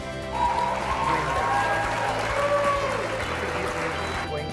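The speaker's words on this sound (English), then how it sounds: "So at this first slide only I want the clapping." Crowd applause used as a sound effect on a presentation slide, steady continuous clapping filling the whole stretch at a moderate level with no voices over it.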